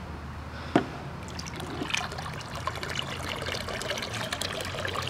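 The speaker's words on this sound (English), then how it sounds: "I'm filling up her pool right now." Water pours and trickles into a dog's pool outdoors on a hot summer day, a soft continuous splashing with a small knock near the start and no voices.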